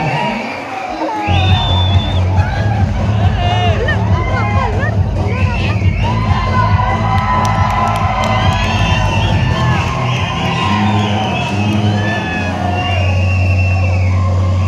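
A large crowd at a Bandi festival stage cheers and whoops loudly and continuously, with children shouting and general babble over a steady low hum from the sound system.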